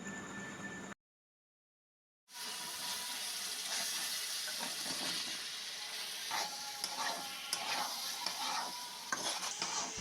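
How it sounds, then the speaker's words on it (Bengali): Chilli powder, turmeric and salt with a little water are stirred and fried in a pan for chicken singara filling; after a brief silent break, soft sizzling and repeated spoon scrapes come through quietly. "মশলাটা ভালো করে ভাজা হয়ে গেলে"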